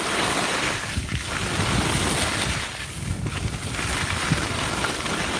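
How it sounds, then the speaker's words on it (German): Skis carving down the steep Schattberg North run at Saalbach Hinterglemm, a steady loud whoosh of snow scraping and rushing wind across the microphone, continuous and close with no voices. "Und während man hier die Piste hinunterfährt"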